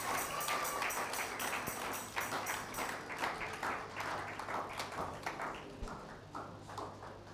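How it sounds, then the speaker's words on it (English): A church congregation applauds together, a dense, fairly distant wash of clapping that thins toward the end into scattered claps. "May we applaud for the word."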